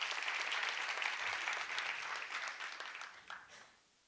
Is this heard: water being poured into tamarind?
no